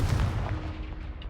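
A Confringo blast spell goes off in the Hogwarts Legacy video game, a short, loud, booming burst with a rumbling tail that fades over about a second.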